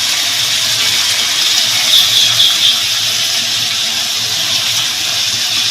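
Pieces of goat meat slide into hot oil in a pan, giving a steady, loud broadband sizzle and hiss that holds evenly throughout, close up, with no talking.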